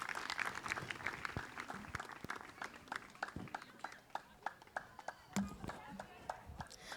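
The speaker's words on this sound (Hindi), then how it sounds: "खूब जोरदार तालियों के बीच माँ विदुषी का स्वागत" Applause welcoming a speaker at a festival stage event begins as dense clapping, then thins into sparse, distinct individual claps that fade out, with some background voices mixed in.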